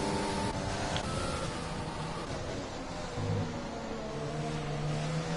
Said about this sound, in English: Sometimes if I switch to somebody's camera and they're on the accelerator, I think I'm hearing their car twice.